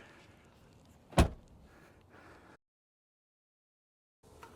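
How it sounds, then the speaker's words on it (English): The back door of a Ford Ranger truck shuts with a single sharp, loud thud over low background rumble, followed by quiet handling sounds and then a brief silence. "I'm going to try to close this back door so I can get up here."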